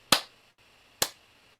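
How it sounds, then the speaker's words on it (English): Two sharp hand claps about a second apart, crisp and close, each ringing briefly in a quiet room with no talking. "2 claps."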